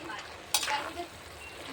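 Fish drops into a hot pan for fish biryani with a sudden burst of sizzling frying that then settles into a softer crackle, close and brief.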